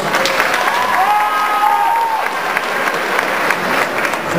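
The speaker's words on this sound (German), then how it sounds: "Jetzt bitte entscheidend Applaus ohne Buhrufe" An audience at a cosplay contest at an anime convention gives sustained, loud applause, a dense wash of clapping with a brief whistle or cheer rising in the middle.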